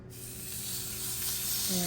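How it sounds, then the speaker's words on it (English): Beef searing in a dry pan with no oil, a steady loud hiss of sizzling that swells slightly, close and continuous, with a faint tonal clink near the end. "I want to hear a big sizzle"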